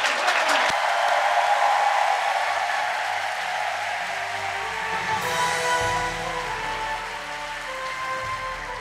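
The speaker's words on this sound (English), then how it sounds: "Please give His Excellency and Chairman Manhee Lee a great round of applause." Sustained audience applause at a lecture event for an MOU signing ceremony, many hands clapping in a dense, steady wash that tapers slightly over time, with faint background hum beneath.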